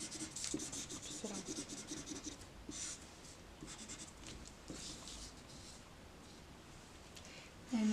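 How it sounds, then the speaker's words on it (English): Crayon or marker rubbing and scratching across paper while filling in the sides with color for an art activity, a close, steady scribbling texture that fades near the end. "now we're gonna fill up all the side of the paper with this other color"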